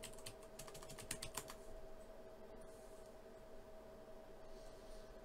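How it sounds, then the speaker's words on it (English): Fingers type a short burst of rapid keystrokes on a computer keyboard, faint and close, before the tapping stops and a quiet hum is left. "Let's type in WineTrix."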